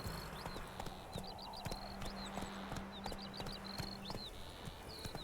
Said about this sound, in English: About to take this horse off-roading.